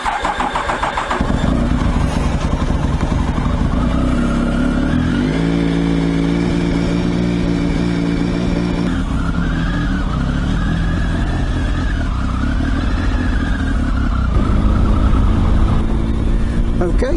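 Triumph Tiger motorcycle engine cranking into life, then running loud and close with rising and falling revs as the bike sets off on the road, a voice talking over it.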